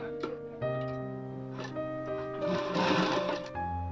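A sewing machine stitches down the middle of princess-cut blouse fabric in one steady, close run. A humming motor tone rises and falls slightly with the pace of the needle.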